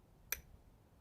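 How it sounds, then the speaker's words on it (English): One sharp, faint click comes from the stuck collet of a brand-new Ryobi PBLID02 4-mode impact driver. It is a lone brief snap in an otherwise quiet room. "It's clicking,"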